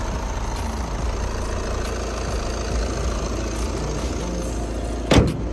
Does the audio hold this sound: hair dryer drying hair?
no